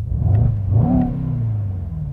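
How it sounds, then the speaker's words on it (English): A 2021 Mercedes-AMG E63 S Wagon engine revs with its exhaust in aggressive mode, a deep, throaty note rising then settling into a low rumble, close and loud. "If you want a more aggressive a sound, there is an exhaust button here, and let's just hit that"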